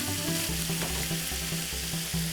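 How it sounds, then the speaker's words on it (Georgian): Butter browning in a hot pan, a steady dense sizzle and crackle filling the whole stretch, close and even, with faint background hum and no talking. "კარაქი უნდა დაიწვას, უნდა გახდეს ყავისფერი."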